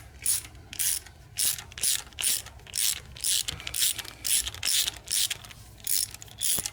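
A hand ratchet clicks steadily as it snugs down the valve cover bolts on a Nissan Silvia S14 SR20DET, the bursts coming in a regular back-and-forth rhythm, close and clear with no talking.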